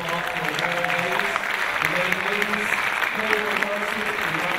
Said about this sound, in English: please give a warm applause for the ladies